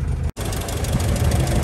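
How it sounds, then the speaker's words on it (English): A 1960 Land Rover Series 2 88-inch soft top with its original 151-prefix petrol engine idling steadily up close, a loud even rumble after a brief cut at the start, no talk over it. "Starts nice and settles down to a nice idle."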